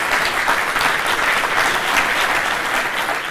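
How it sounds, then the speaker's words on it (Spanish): A studio audience claps for a guest on a television talk show, loud, dense and steady applause that carries on evenly throughout with no talk. "No se merece un pequeño aplauso"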